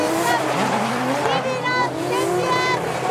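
Drift cars skid through a corner side by side during the paired final runs of a Tokyo drift competition in Japan, with rising, wavering tire squeals over loud engine roar and an excited commentator talking throughout.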